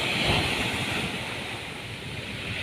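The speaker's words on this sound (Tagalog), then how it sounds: "Maalon ang dagat kasi may bagyo" Rough sea surf pounds steadily during a storm, a dense roar of breaking waves mixed with strong wind buffeting the microphone, loud and continuous with no talk.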